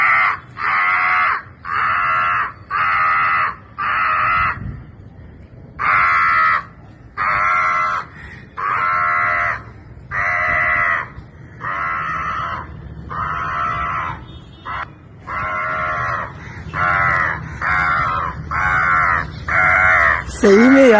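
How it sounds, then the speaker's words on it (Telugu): A large flock of crows caws in loud, repeated bursts, answering a woman who calls them, with a few short pauses between volleys and a voice present throughout. "सही में यार आप तो कौआ का भीड़ लगा दी."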